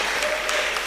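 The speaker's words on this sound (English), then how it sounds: "A round of applause for them" Dense audience applause for a team at a national public speaking competition semi-final, a short, steady burst heard close and alone.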